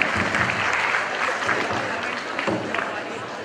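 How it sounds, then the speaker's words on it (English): Audience applause welcoming a debate chairperson onto the stage at a school event, a dense, loud, continuous burst of many clapping hands that tapers slightly over a few seconds. "on stage with a huge round of applause"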